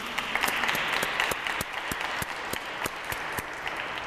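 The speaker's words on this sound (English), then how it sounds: "we're gonna give a round of applause to Our Lady" An audience at a religious talk gives a round of applause, a sustained crowd clapping wash with a few sharper, closer individual claps standing out, fairly quiet overall and steady to the end.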